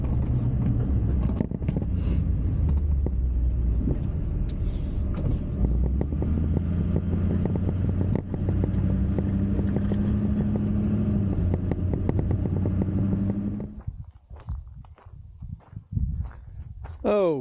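A vehicle tows an old trailer that has not been hitched for about fifteen years, giving a loud, steady engine rumble with rattling knocks throughout that drops away near the end, leaving quieter clunks.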